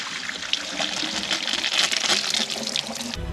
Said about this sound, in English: we're gonna drain it and see how much water is leaking